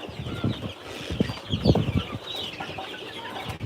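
Tiger breed chicken chicks, around sixty-five days old, cluck and chirp on a farm, with overlapping calls and a brief flurry of wing movement close by.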